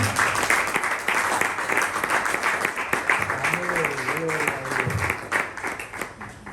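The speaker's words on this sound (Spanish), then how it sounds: "El que lo crea, que diga amén y le dé su mejor aplauso al Señor." Applause from a church congregation fills the space, a steady wash of clapping mixed with voices and cheers throughout, continuing loud and dense before easing slightly at the end.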